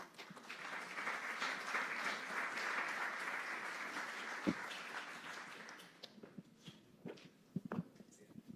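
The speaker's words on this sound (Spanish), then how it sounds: "Recibámosle con un aplauso," Applause from a forum audience fills the first six seconds as a dense, steady clatter, then thins into scattered claps and a few shuffling footsteps.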